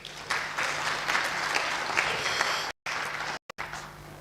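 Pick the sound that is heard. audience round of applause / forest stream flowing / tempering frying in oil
audience round of applause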